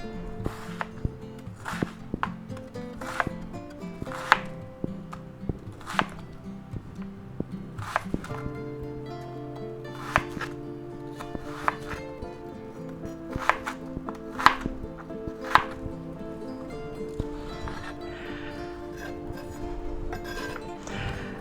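A knife slices onions on a cutting board for shrimp and roasted pork fried rice: a steady series of close, sharp chops with occasional clinks, over faint background music and no talk.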